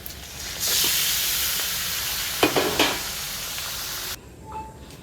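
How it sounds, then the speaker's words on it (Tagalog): Pork hits a hot pan with sautéed onion and garlic and breaks into a loud, steady sizzle with a couple of stirring scrapes, then the frying drops away to quiet near the end. "lalagyan na natin ang ating pork."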